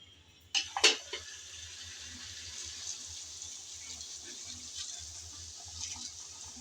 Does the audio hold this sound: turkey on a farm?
no